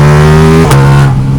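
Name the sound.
Ducati Diavel V4 motorcycle engine revving on a dyno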